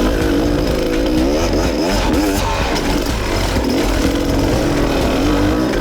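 An enduro motorcycle climbs a hill on rough terrain, its engine droning loud and close throughout with rising and falling revs under steady throttle.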